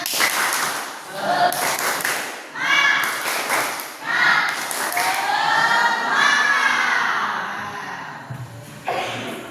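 A group of children chants and cheers in a spirited clapping call, with bursts of shouting voices, thumps and rising cheers that come in waves, loud and close.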